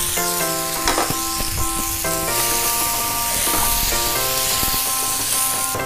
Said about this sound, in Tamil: இப்போ இந்த அரைச்சி வச்ச வெங்காயம், மிளகு, சீரகம், மல்லி இதெல்லாம் போட்டு பச்சை வாசனை போக இதை வதக்கிக்கலாம்.